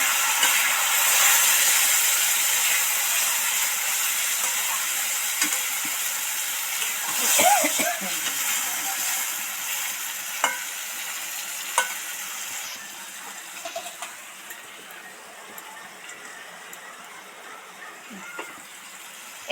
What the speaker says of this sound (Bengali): এই ম্যারিনেট করা সোয়াবিনটা এর মধ্যে আস্তে আস্তে ছেড়ে দেব